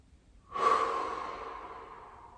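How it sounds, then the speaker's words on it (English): A single slow, deep breath drawn in and released through the nose, soft and close, swelling quickly then tapering off gradually in a quiet room. "take a deep breath"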